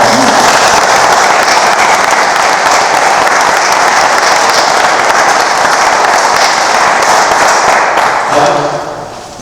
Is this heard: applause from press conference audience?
yes